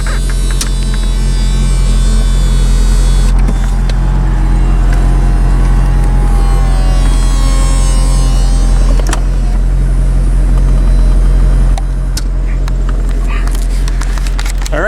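Steady electric motor hum and whine of a C6 Corvette convertible's power top cycling, loud and continuous with a strong low drone and faint clicks, a slight shift near the end.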